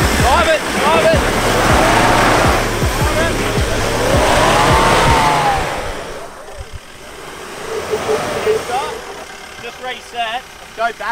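Off-road trucks roar loudly nearby with revving engines and squealing tires, the din easing off midway before bursts of engine noise return, while people shout over it.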